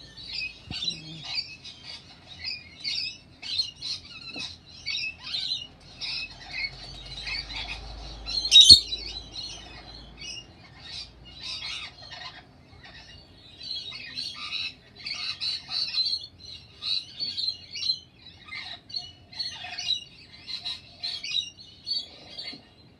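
A wild rainbow lorikeet, a small Australian parrot, gives repeated shrill squawks and chirps in quick bursts close by, with brief pauses between calls and a louder squawk in the middle.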